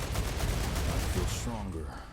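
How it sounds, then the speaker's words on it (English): Enemy bugs launch an artillery-type barrage in the StarRupture game, a dense run of booming bursts and gunfire with a few squeaky tonal effects near the end, while a person talks. "Apparently they do artillery type attack too."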